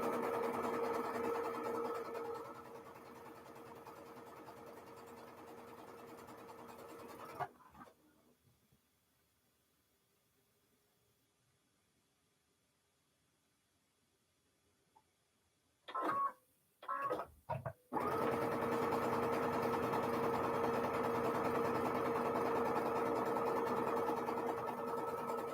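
A sewing machine stitches quilt fabric along a diagonal in steady, fast mechanical bursts, stopping for a long quiet pause midway with a few brief restarts before running continuously again.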